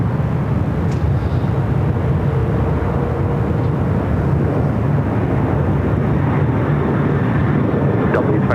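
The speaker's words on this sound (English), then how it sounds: "Asiana now rolling down at 24 left" Asiana airliner rolling down runway 24 left at LAX for takeoff, a steady broad engine roar held loud throughout, with a radio voice faintly audible underneath.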